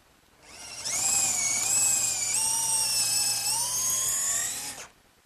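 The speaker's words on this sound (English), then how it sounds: "I'm just going to use a larger bit in the drill." A power drill fitted with a larger bit enlarges a pilot hole in wood for a drop leaf table, whining steadily at close range for about four seconds with small pitch shifts as it bites, then spinning down.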